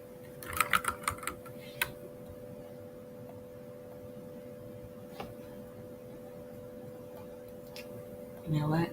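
Short bursts of computer keyboard typing while coding Python, a quick cluster of clicks at the start and a few isolated taps later, fairly close, over faint hum, with a voice briefly at the end.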